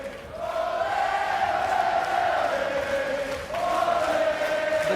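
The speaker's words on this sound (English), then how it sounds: "The crowd certainly with Chris" A large crowd at a FIFA 17 tournament grand final cheers and roars continuously, with sustained, swelling shouts that rise again near the end, loud and enveloping.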